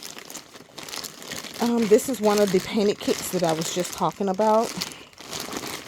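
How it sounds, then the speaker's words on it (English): Plastic packaging of a painted Leeka Leoni (Peeka sculpt by Bonnie Brown) reborn doll kit crinkling and crunching as it is opened, loud and close, with someone talking over the rustling. "I apologize in advance for the noise of the plastic."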